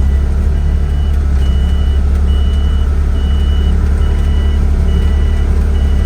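A Wolf Mini 780H Chinese wheel loader creeps forward, its heavy engine droning loud and close with a steady low rumble, while faint repeating electronic beeps sound in the background.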